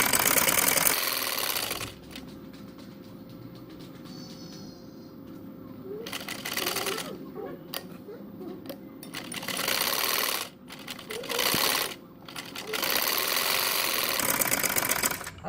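Sewing machine stitching a ban collar neck for a ladies' garment, running in steady whirring bursts with pauses between them, close and fairly loud.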